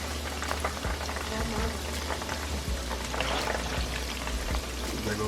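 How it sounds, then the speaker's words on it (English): Polish sausages deep frying in very hot grease, a dense, loud, continuous bubbling crackle with scattered pops throughout and no voices. "now I'm getting ready to deep fry these polishes"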